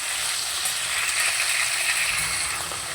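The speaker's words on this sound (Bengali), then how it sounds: "এবার কেটে রাখা আলুগুলোকেও দিয়ে দিচ্ছি। আলুগুলোকে একটু বাদামি বাদামি করে ভেজে নেব।" Cut potatoes frying in a pan with black cumin seeds, a steady close sizzle with occasional light stirring ticks.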